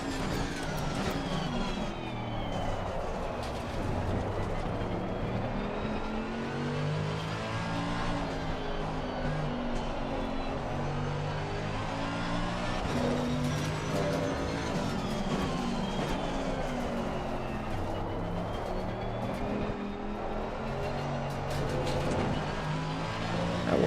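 A Mercedes AMG race car lapping the Nürburgring in Assetto Corsa Competizione, its engine rising and falling through gears in sweeping revs with brief lifts through corners, loud and continuous throughout with no talk.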